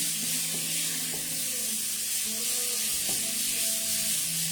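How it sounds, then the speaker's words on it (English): Beef browning in a pot for a stir-fry, a steady close hiss of frying fat with occasional small spits and clinks, continuous and moderately loud with no talking. "So our beef is browning."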